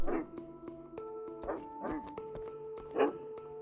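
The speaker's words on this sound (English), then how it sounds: "Now I can hear woofing." A dog barks in the online role-playing game Mortal Online 2, with several sharp barks spaced out over a few seconds against steady tonal game music.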